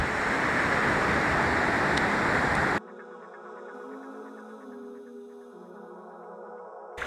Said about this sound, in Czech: Po týdnu neustálýho, téměř neustálýho deště, tady je docela slušná řeka.